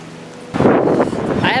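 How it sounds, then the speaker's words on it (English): Rain falls outdoors at night in a sudden loud wash of broadband hiss that sets in abruptly and continues steadily, with faint wind noise on the microphone. "It's raining."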